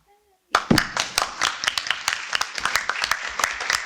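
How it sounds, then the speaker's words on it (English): Audience at a school board meeting breaks into sustained applause, many hands clapping at a moderate distance after a brief silence, with sharper individual claps standing out through the steady patter. "There'll be lots of clapping tonight"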